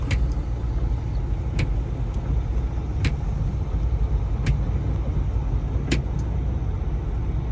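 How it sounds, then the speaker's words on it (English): Road traffic streams across the George Washington Bridge in New York, a continuous low roar of passing cars and trucks heard from inside a truck cab, with occasional sharp clicks and knocks. "There's always traffic here."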